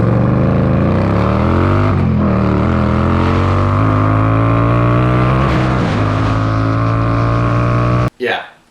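Indian Scout Bobber motorcycle accelerating hard under throttle, a loud, close, rising engine roar that climbs steadily through the revs for about eight seconds before cutting off abruptly, with no talking.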